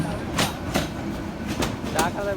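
A passing train on a railway line, its wheels giving a steady rumble with repeated sharp clickety-clack bursts over the rail joints, close and fairly loud, with a voice speaking over it.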